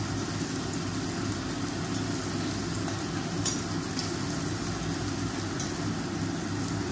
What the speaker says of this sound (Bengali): আর এইদিকে কাঁকরোল ভাজা, তো এগুলো উল্টিয়ে নিই